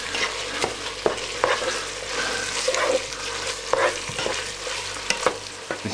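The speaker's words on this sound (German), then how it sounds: "Das Tomatenmark lasse ich noch ein wenig nachrösten bzw. mit anrösten hier im Topf." Tomato paste roasting in a pot for pizza soup, a dense steady sizzle with frequent scraping strokes and knocks of a spoon against the pot, close and fairly loud.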